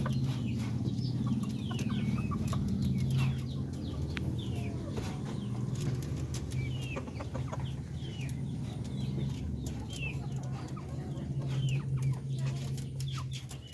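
Darag native hens, about five to six months old and at laying age, cluck and call steadily at close range over a low background hum, with occasional wing flaps and no talk.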